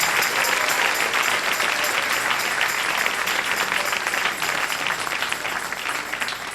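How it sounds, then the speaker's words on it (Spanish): A church congregation applauds continuously during a Spanish-language service, a steady, full roar of many hands clapping that stays strong and eases only slightly toward the end. "Dale un aplauso al Rey en esta hermosa mañana."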